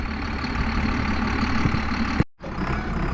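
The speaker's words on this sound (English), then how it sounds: "You hear it grunting like that, it's starving for oil because the engine's not running fast enough" A tractor engine, starved of oil at low speed while pulling a John Deere 1770 no-till corn planter, chugs steadily, a deep uneven grunting that cuts out briefly and then resumes.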